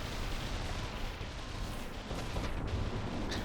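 Nukes go off in a video game, a heavy, continuous roar of blasts and rumbling booms with a sharper crack near the end, dense and loud throughout.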